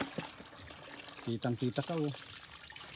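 Mountain spring water trickles and drips in a thin steady stream, faint and close, with a voice briefly speaking over it.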